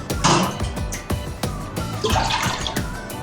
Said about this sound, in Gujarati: એક તપેલી. જેમાં આપણે એક 2 પાલા જેટલું પાણી એડ કરી દઈશું